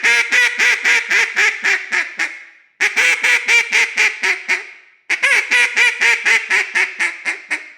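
A duck call blown by a person sounds three loud, close series of raspy quacks, each starting on a low pickup note and stepping downward in pitch and fading toward the end.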